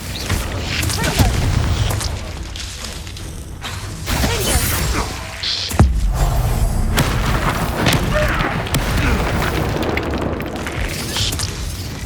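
Explosive Confringo spell bursts in Hogwarts Legacy combat, with booming blasts, whooshes and thuds repeating over about twelve seconds amid dense game noise and shouted spell names.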